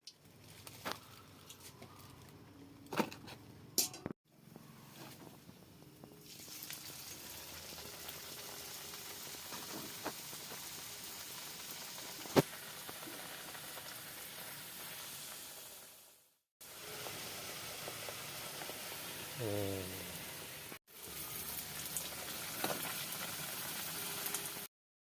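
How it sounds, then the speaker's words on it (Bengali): Cumin seeds sizzle in hot oil in a pan, a faint steady crackling hiss that carries on for the whole stretch with a few brief dropouts and small pops. "জিরে ফোড়ন দিলাম"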